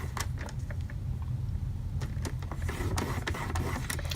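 Paper is scored with a scoring tool for a gum holder craft project, giving scattered light clicks and scraping strokes over a low steady hum, close and fairly quiet.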